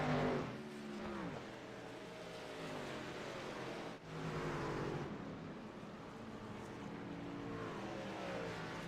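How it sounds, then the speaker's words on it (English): A pace truck engine drones steadily under caution in the iRacing video game at Texas, with other truck engines humming along. The pitch shifts gently as the trucks circle, with one brief dip midway. "There's your pace truck heading into turn 1"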